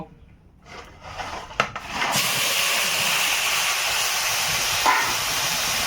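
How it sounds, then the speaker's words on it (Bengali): Small crab legs dropped into hot oil seasoned with turmeric and salt, bursting into a loud, sustained hiss after a few clattering bumps, close and continuous with no speech. "এখানে কাঁকড়ার ছোট লেগ দিয়ে দিলাম"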